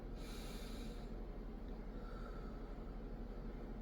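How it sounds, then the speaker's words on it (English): A person takes one deep breath, a close, airy inhale that is loudest at the start and then fades into a low, steady background hum. "on the count of 3, we are going to take our deep breath"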